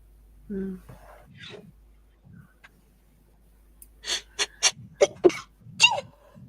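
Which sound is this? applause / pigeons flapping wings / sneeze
sneeze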